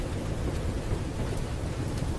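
Steady rainfall hisses in a broad, even wash with a low rumble underneath, continuous and unchanging with no voices.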